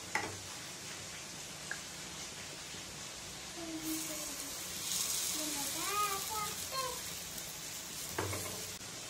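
Appe batter hitting an oiled appe pan, a soft sizzle and light stirring clicks with a few sharp taps, while a child and an adult talk over it.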